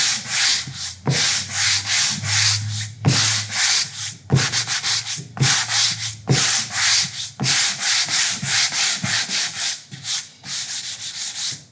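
Hand sanding of a wooden sign with 150 grit sandpaper produces close, loud, rhythmic back-and-forth rasping strokes, about a dozen in steady succession with brief pauses, and no talking.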